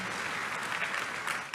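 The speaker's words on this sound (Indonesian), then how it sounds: "Tepuk tangan dulu yang paling meriah buat Tuhan." A church congregation applauds all together, a dense, fairly faint burst of clapping with no voices over it.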